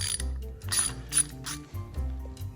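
Ratchet clicking while loosening 10 mm bolts on the windshield wiper motor of a 1999 Grand Voyager, close-up bursts of rapid pawl clicks separated by short pauses and mechanical clinks.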